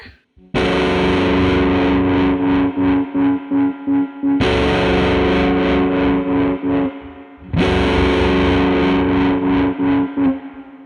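Distorted electric guitar chords struck three times through a Dreadbox Treminator tremolo pedal at a fast rate, each ringing with a quick, choppy tremolo that pulses the volume rapidly, with reverb on; loud and up close.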